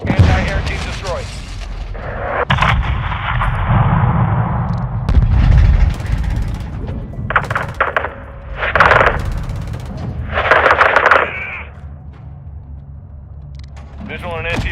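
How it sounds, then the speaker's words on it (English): Modern Warfare 2 mission battle noise heard over radio chatter: booming, crackling gunfire and explosions come in loud surges between stretches of clipped voices talking. "you can hear the current gunfire going on through the radios"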